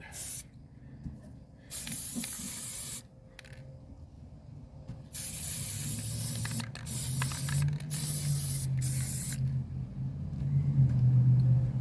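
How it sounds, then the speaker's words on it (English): Aerosol spray paint hisses in several long bursts of a few seconds each onto a watering can outdoors, separated by short pauses, close to the microphone over a low background rumble. "Let's just spray it real good while I'm out here"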